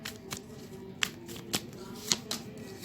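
Tarot cards shuffled by hand during a reading, giving a few soft, separate riffling clicks and slaps spaced about half a second apart over a faint steady hum, with no voice.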